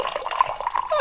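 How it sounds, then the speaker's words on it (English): Scotch or bourbon poured into a glass, a brief wet trickling with small drips and a rising gurgle as it fills, fairly close and steady for about a second. "That's the pouring of the scotch."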